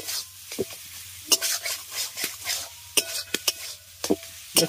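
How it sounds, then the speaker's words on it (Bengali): A spoon scrapes and clatters through a kundri posto mixture in a pan as it is stirred until dry, sharp intermittent knocks against the metal over a quiet background. "এর সাথে সাথে এটাকে নাড়তে নাড়তে পুরোপুরি শুকনো করে নেব"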